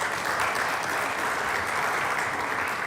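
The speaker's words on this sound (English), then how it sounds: "Another round of applause to you." A conference audience at an energy systems session gives a steady round of applause, dense and even clapping that holds at a strong level for the full few seconds with no other sound.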